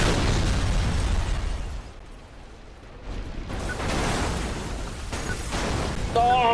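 Crashes and explosions in the racing video game Burnout 3: Takedown, heavy booming bursts with rumbling low-end at the start and again later, separated by a quieter stretch, followed by more blasts and a brief tonal game effect.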